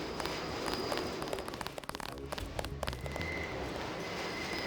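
Gunfire in the Deus Ex video game sounds across a lit-up city: dense, rapid cracks and pops rattle continuously over a steady rumbling bed, close and fairly loud for the whole stretch.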